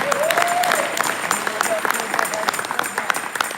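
An audience at a Paryushan devotional gathering bursts into brisk, fairly loud applause, dense clapping that tapers slightly toward the end, with a voice calling out briefly over it.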